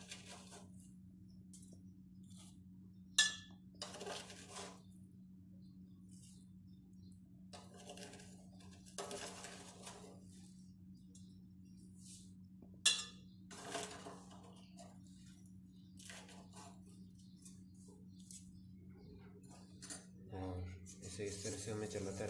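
A spoon scrapes and clinks against a pot of milk boiling down for mishti doi, in intermittent bursts of stirring over a steady low hum with quiet gaps between.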